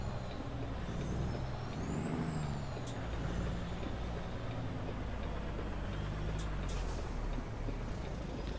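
A lowered semi truck idles and creeps through a tight turn at a traffic light, its steady low diesel rumble running throughout, with a brief rising whine and a few sharp air-brake hisses near the end.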